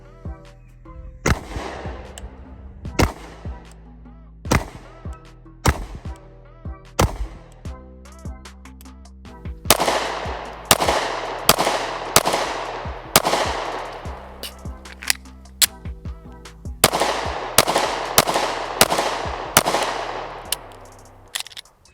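A Canik MC9 pistol fires at an outdoor range, a long run of loud, close, sharp shots. They come sparsely at first, then in quicker strings of several rounds, each crack ringing out briefly, with no speech.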